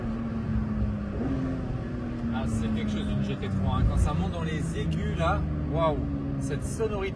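Porsche 992 GT3 engine heard while driving, a steady high-pitched wail with rising revs and gear changes, somewhat muffled from inside the cabin, with people talking over it.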